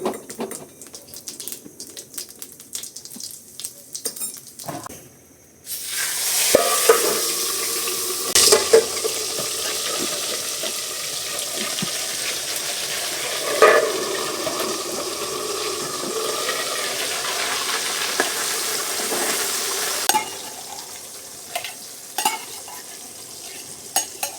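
Cumin seeds and asafoetida dropped into hot oil for Gujarati-style pav bhaji burst into a loud, steady sizzle after a quiet start, with faint clinks of a spoon. The sizzle holds for some time and then eases toward the end.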